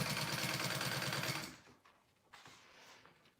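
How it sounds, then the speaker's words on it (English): A sewing machine top stitches the lining of a Dragon Sling bag fused with Woven Fuse, humming in a steady rhythmic run for about a second and a half before stopping, followed by faint handling noises. "I'm just top stitching that down now."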